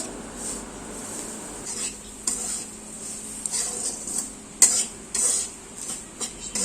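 Semolina being stirred as it dry-roasts with a bay leaf in a pan, heard as a steady scraping and stirring close by, with a faint sizzle and occasional sharper utensil scrapes against the pan.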